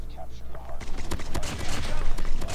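SKS rifle fire in the mobile shooter COD Mobile, a run of sharp repeated gunshots over dense game noise, with a player talking excitedly over the action.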